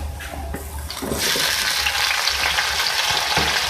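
About 300 grams of potatoes go into a pan of golden brown fried onions, and the sizzle jumps to a louder, dense hiss partway through, then holds steady up close.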